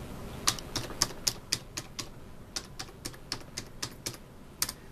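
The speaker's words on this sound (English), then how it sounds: "I'm just typing in letters from M to the left to Z and from L to D" Irregular keystrokes on a computer keyboard entering a BIOS password, about a dozen distinct clicks with short pauses between, close and clear with no talking.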